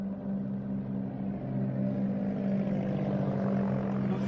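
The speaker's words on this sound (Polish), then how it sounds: "Nagle nadlatuje samolot rozpylający żółty preparat nad polem soi." A crop-spraying airplane flying low over a soybean field, giving a steady droning engine roar that swells slightly as it passes, heard continuously with no speech.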